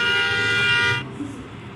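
A vehicle horn blares with a bright, sustained tonal blast for about a second, then cuts off, leaving quieter background noise and faint voices.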